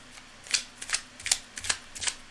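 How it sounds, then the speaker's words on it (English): A deck of tarot cards being shuffled by hand, with a series of short crisp riffling bursts repeating in an irregular rhythm, close up and fairly quiet, no talking. "The cards are well shuffled."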